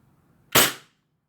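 A WE Glock 34 T3 airsoft gas pistol with an FPS port mod fires a single sharp, loud crack with a quick gas hiss tail, alone against a faint low background.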